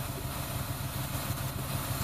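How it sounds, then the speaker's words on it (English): 2005 Ford Escape engine idling rough with a misfire, a steady close rumble carrying an uneven pulsing chug and no voices. "that's why we hear it puffing and backfiring"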